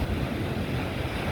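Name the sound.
sea waves crashing on beach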